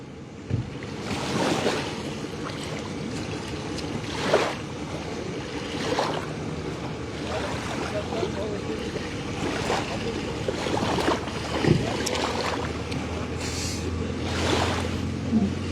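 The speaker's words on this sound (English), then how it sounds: "Ray, tell the water to stop moving." Lagoon water lapping and moving in steady, soft washes with a constant wind-like rush, the surf-like swells rising and falling every couple of seconds at a moderate distance.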